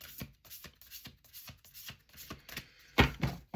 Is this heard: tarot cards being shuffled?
yes